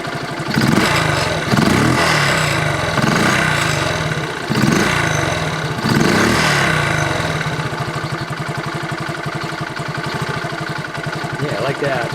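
A 1971 Honda CT70 motorcycle engine cranks over in several rhythmic pulses, then catches and settles into a steady, close, fairly loud idle that continues alone to the end.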